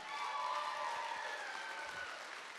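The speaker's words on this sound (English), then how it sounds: "Please give our performances one big round of applause." Steady applause from an arts awards ceremony audience, a dense wash of clapping hands that holds evenly throughout and fades slightly at the end.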